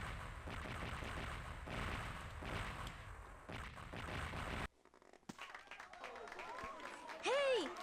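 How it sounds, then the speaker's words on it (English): A crowd of canned applause from the video game Sonic Adventure claps steadily for several seconds, then cuts off abruptly, followed by scattered quieter game sounds and a rising whistle-like tone. "Yay, stock clapping noise."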